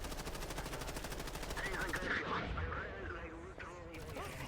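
Rapid automatic gunfire rattles loud and close in the video game Black Wolves Rebellion, a dense steady stream of shots, with someone talking over the barrage.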